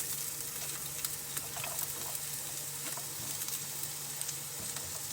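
Onions sauté in a pan with a soft, continuous sizzle and scattered light crackles and pops, fairly quiet and even throughout, with no talking.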